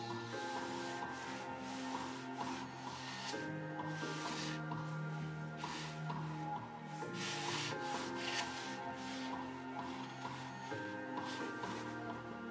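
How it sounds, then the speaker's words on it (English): Rubbing, sanding strokes on a sculpted statue torso during a rebuild, steady and close, continuing throughout under a bed of background music. "Sand down a lot of this here."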